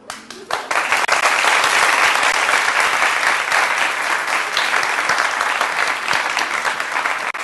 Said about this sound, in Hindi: आज हमारे ऑडियंस ऐसे तालियां बजाएंगे